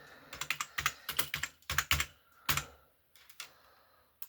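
Bursts of keystrokes clatter on a computer keyboard, close and clear, coming in quick irregular clusters with short pauses between them.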